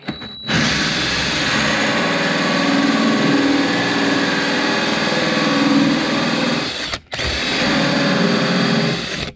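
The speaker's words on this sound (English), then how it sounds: "You put your hole saw right near the corner of where you need your hole." A hole saw cuts into a new countertop near the corner where the hole is needed, a steady loud whine of a power drill running continuously for several seconds, stopping briefly, then grinding on again.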